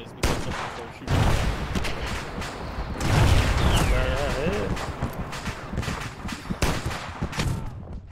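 Gunfire in the ARMA 3 video game during a Halo-themed battle near a Covenant ship, with repeated shots and bursts and a loud blast over dense game noise.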